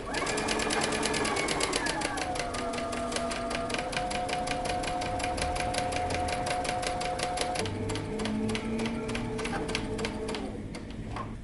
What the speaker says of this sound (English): now you can begin to sew the 1/2 inch seam allowance